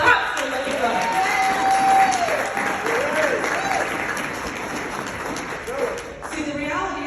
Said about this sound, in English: Let's clap for Live Good.